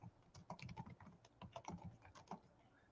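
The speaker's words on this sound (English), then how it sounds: "I was typing a message there." Rapid keyboard typing for a message, a steady run of clicky keystrokes in irregular bursts, close and fairly quiet, with no voices.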